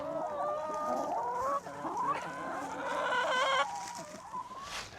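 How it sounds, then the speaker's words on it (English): Hens on a farm, some staying indoors, cluck and make drawn-out, tonal calls up close. The calls overlap in a busy, continuous chatter with no pauses. "Here's some lazy chickens right here, not headed outside"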